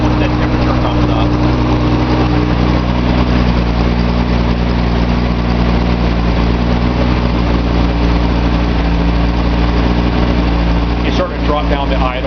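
A fuel-injected Datsun 280Z engine runs steadily on a test stand, a loud continuous droning hum that settles toward idle, with someone talking over it.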